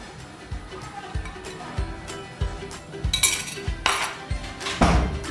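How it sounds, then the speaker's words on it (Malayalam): A metal spoon clinks steadily against a bowl while gelatin is mixed into Rafaello pudding, giving a regular tapping rhythm that grows louder and brighter toward the end. "സ്പൂൺ വെച്ച് മിക്സ് ചെയ്താൽ മതി"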